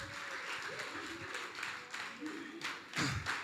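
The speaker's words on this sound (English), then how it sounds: "give yourselves a round of applause" Faint applause from a workshop audience clapping for themselves, a soft continuous patter with some louder claps near the end and voices murmuring underneath.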